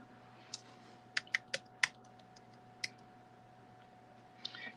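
Typing on a portable computer keyboard in a quiet room, a handful of sharp separate key clicks spread irregularly, with a faint steady hum behind them.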